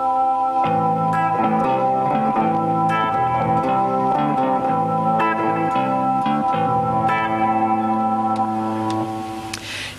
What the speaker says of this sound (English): you can now come up with interesting combinations of sound like this.